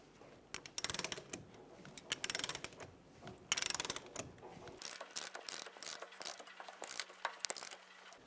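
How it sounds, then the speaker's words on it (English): A torque wrench on a 30mm socket tightens the rear axle nut of a 2000-2007 Ford Focus, making close, repeated bursts of ratcheting clicks and metallic mechanism noise with brief pauses between pulls. "Torque the axle nut using a 30mm socket to 174 foot-pounds."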